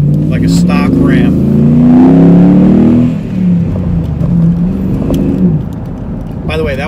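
Ram Rumble Bee pickup with a V8 Hemi pulls away gently, its deep engine note rising steadily and close, then settling into a lower drone; voices talk briefly at the start and end.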